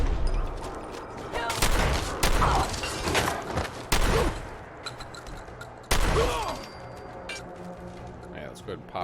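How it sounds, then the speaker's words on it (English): Gunfire in Fallout 4, several loud sharp blasts with rumbling tails spaced a second or two apart amid game noise, with someone talking over the action. "I was like, who's shooting the shotgun?"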